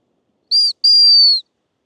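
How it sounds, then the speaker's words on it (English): A dog training whistle gives two sharp, high, loud blasts, a short one followed by a longer steady one, with silence before and after. "Sky is gonna get the whistle"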